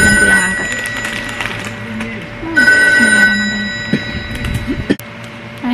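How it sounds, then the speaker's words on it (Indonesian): A telephone rings with a steady electronic tone that starts, pauses and resumes, while indistinct voices and household noise continue underneath. "Ada telepon loh"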